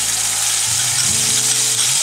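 Whole garam masala crackles in hot oil, a loud, dense sizzle with a brief low rumble as the spices are stirred close by.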